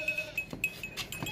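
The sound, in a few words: hornless goat bleating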